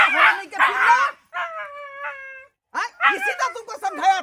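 In a Maithili comedy sketch, a dog yelps and whimpers in close, loud bursts around a drawn-out whine. The sounds are voice-like and may be a person imitating the dog.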